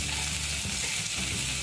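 Mixed vegetables frying in a pan, a brief, dense and steady sizzle heard close up with no talking.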